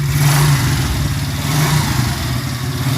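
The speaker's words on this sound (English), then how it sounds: "just rev it up a little bit." A motorcycle engine runs loud and close, idling with a steady throb and rising into a light rev. No talking.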